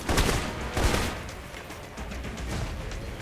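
Gunfire rattles in Alpha Protocol, a dense burst of shots near and loud at the start, then a continuing rough spray of firing that tapers slightly.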